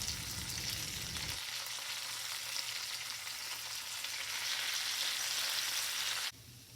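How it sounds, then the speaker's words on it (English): Bacon fries in a skillet on a stovetop over medium-low heat, giving a steady, close, even sizzle that runs without a break and cuts off sharply near the end, with no voices. "On the stovetop, I fried the bacon on medium-low"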